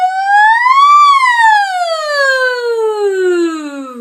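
A single voice imitates a siren, sliding smoothly up to a peak and then gliding slowly down in one long, loud, sustained tone.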